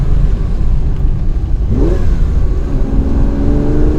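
A 1967 Ferrari 330 GTC engine roars close and loud, its pitch dipping at a gear change into third and then climbing again as the car accelerates.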